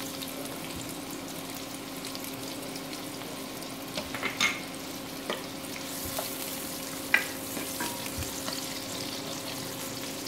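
Onion fries in a pan until golden brown for methi matar malai, with a steady sizzle and scattered stirring knocks and taps close by, one sharper clink near the end, and no talk.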